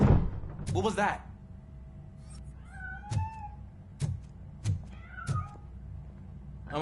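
A cat meows repeatedly inside the Robocop Rogue City video game, several clear rising cries spaced over a few seconds between soft thuds, with a voice talking near the start.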